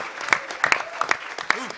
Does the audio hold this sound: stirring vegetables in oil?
no